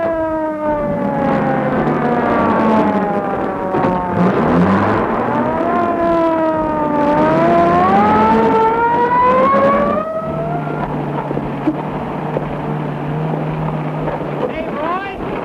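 A sheriff's patrol car siren wails in long rising and falling sweeps over a steady engine drone, loud and close, then cuts out, leaving only the car's engine rumbling on.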